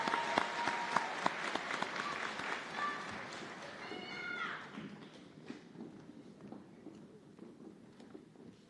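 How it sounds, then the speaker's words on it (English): A crowd applauds at a nursing school white coat ceremony, strong clapping with high cheers and whoops at first, then tapering to scattered claps and fading away. "All righty, another round of applause for this group of Tigers."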